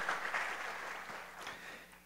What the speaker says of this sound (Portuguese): Rodrigo Cruvinel e o Vinícius Bernardes, recebendo os aplausos de todos os presentes